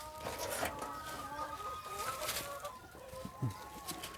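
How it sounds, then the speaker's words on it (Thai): Backyard hens cluck and call from a home-raised flock kept on rice-husk bedding, several birds overlapping at moderate distance with faint talk in the background. "นี่เลี้ยงแบบบ้านๆเรานี่ครับ ไก่"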